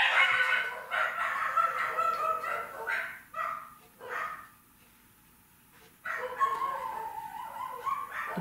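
Dogs bark excitedly indoors while snow is cleared from the driveway outside, with loud clusters of barks and yips, a short lull, then another round of barking.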